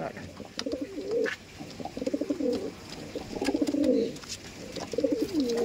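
Giribaj pigeons cooing in a loft, with repeated rolling, throaty coos in a regular rhythm and light background rustle and chirps, with no talk.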